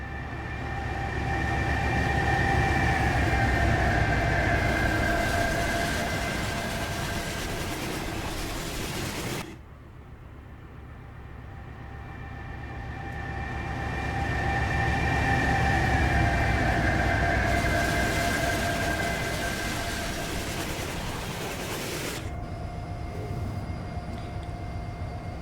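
Canadian GE GEVO diesel locomotives in Train Simulator on the Montana Hi-Line rumble steadily with a droning engine hum that swells, briefly drops off and builds again, fairly quiet and continuous without talking.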